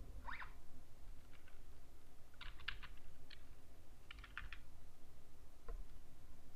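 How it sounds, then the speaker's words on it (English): Computer keyboard keys tapped while typing a signature, short soft clusters of clicks in a few bursts with pauses, faint and close over a steady low hum. "Type here your signature."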